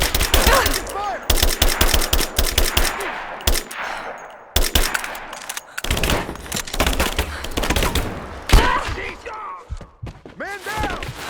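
Dense, loud video-game gunfire in Rise of the Tomb Raider, with rapid automatic bursts and heavy shots filling the scene, mixed with shouted voices of combatants throughout.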